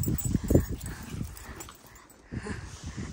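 A Pomeranian puppy whimpers and gives short yips in a lively bout at the start, quieter for a moment, then a few more soft whimpers near the end, heard close by with no talk.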